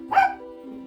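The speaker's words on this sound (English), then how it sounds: "Stop barking, Brady." A dog gives one short, sharp bark close by, ringing briefly over a steady low electrical hum that continues after it.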